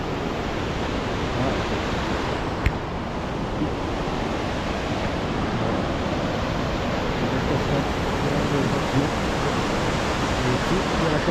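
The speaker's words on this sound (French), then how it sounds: "Une belle petite cascade aussi." A small waterfall in the Vosges near Cornimont rushes in a loud, steady wash of white noise for several seconds, heard from close by, with one brief spoken word.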